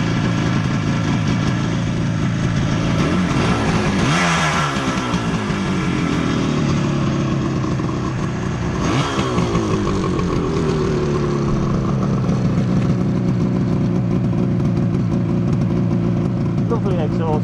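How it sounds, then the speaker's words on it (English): A Benelli 250 2C Electronica with an air-cooled engine idles steadily, rising in two revs around four and nine seconds before settling back, with speech over the engine throughout. "Mechanically, it sounds very sweet for an air-cooled engine."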